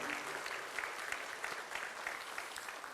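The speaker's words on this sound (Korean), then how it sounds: "우리 박수로 우리 하나님께 올리겠습니다" A church congregation claps together during a worship service, a steady fairly distant wash of applause with rhythmic accents and no one speaking over it.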